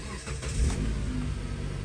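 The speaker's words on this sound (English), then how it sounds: "Okay, I'm gonna turn the engine on" A car engine cranks and catches, rising briefly in a rev before settling into a steady, close running rumble.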